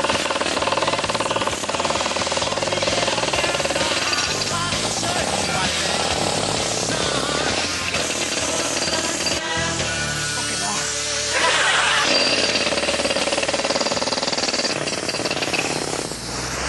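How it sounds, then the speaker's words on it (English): A drill or pickaxe breaks ground at an archaeology dig, a loud, continuous jackhammer-like rattle with voices talking over it throughout. "Have we got a sort of pickaxe or a drill?"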